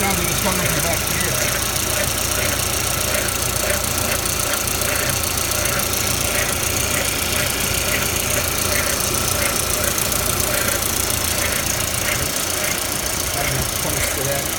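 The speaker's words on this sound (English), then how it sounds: "that tensioner kind of rattles and rolls" Car engine idling with a steady mechanical rattle from a loose tensioner, continuous and fairly loud throughout, a broad drone with light rhythmic ticking on top.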